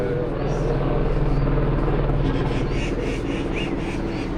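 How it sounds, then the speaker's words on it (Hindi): A helicopter's rhythmic rotor chop thumps steadily overhead, loud and close, continuing without a break for the whole moment. "हेलीकॉप्टर भी जा रहे हैं भाई,"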